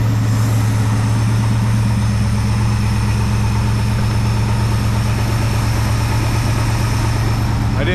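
An engine fitted with a rebuilt Holley 2 barrel carburetor idles on its automatic choke, a loud, steady, close rumble throughout.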